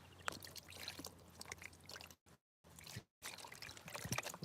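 Water pours from a bottle onto clay-laden gravel in soft, faint trickles and splashes, with a couple of abrupt breaks in the sound.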